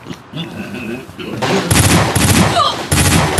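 Bursts of gunfire crackle through a battle scene in an Ilocano drama, starting faintly and swelling into dense, loud volleys, with brief pauses between rapid barrages and voices shouting underneath.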